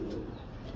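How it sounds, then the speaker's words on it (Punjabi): A high-breed show pigeon with fine, slender feathers gives a soft, low cooing, heard close but faint over a steady murmur of background noise for under a second. "ਬਹੁਤ ਪਾਵਰਫੁਲ ਕਬੂਤਰ ਹੈ ਜੀ।"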